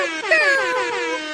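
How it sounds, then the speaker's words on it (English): An air horn sound effect blares loud and alone, one sustained brassy blast. "It's air horns, for Christ's sake."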